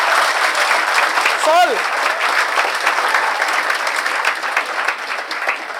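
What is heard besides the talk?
audience applause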